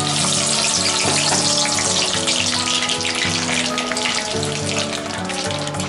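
Peanuts fry in plenty of hot oil while being stirred, making a loud, dense crackling sizzle like heavy rain, with a few scraping knocks throughout.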